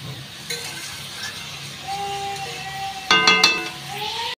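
Potato and papaya pieces fry with salt and turmeric in a pan, giving a steady soft sizzle with a few sharp utensil clinks near the end and thin high tonal whines above.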